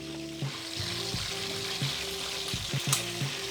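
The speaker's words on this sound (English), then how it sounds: "now we're frying the chicken" Chicken frying in a pan for teriyaki chicken, a dense, steady sizzle and crackle close up, with stirring sounds and a few louder pops, no talking.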